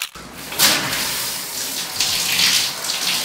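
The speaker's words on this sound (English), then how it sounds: "time to rinse it out" Tap water runs steadily and close by as a hair mask is rinsed out while showering, a continuous broad splashing hiss with slight surges and no talk.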